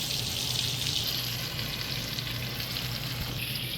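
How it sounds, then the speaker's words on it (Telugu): Pomfret fish frying in a pan on low heat, a steady close hiss of oil with faint crackle and a low hum beneath, continuous and even with no talking. "ఇప్పుడు ఇలా సిమ్లో పెట్టుకొని వేయించండి."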